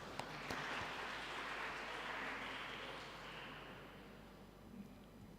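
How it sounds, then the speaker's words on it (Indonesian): A church congregation at a Sunday evening service at HKBP Mampang applauds the young musicians with faint, steady, dense clapping that fades gradually over several seconds. "Tepuk tangan dulu untuk mereka ya."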